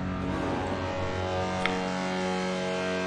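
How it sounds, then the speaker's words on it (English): Ambient industrial synth noise from VCV Rack Vult Premium modules, with boosted overtones, feedback and chaos settings, forming a dense, continuous roaring wash with droning tonal layers, steady and loud throughout. "how to make noise in VCV Rack with Vault Premium modules?"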